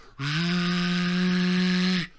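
A voice imitates a straight-piped diesel truck idling at the top of a hill: a steady, buzzing drone held evenly for about two seconds at a loud level, then cut off.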